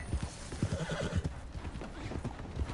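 Horse hooves clip-clop at a gallop in Red Dead Redemption 2 Online, a steady drumming rhythm with a whinny, fairly close and continuous throughout.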